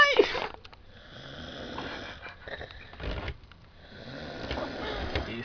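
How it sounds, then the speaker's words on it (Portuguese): A man snores loudly in a series of rough, rasping breaths, fairly close and steady over several seconds, with low murmuring in the background. "Ele ronca pra caralho."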